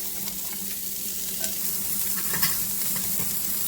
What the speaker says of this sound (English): So we're going to add in the onion,